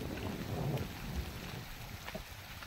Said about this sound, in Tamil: மழை வேற வருது.